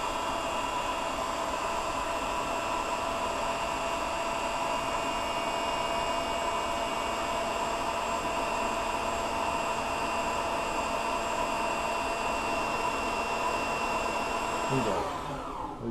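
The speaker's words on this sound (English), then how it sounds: "As you see, the bobbin stops winding." An industrial sewing machine winds a bobbin with a steady, loud motor whir and whine that holds evenly for a long stretch, then cuts off abruptly near the end as the winding stops.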